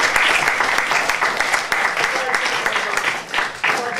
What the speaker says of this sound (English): Okay, I'd like to give the candidates a round of applause.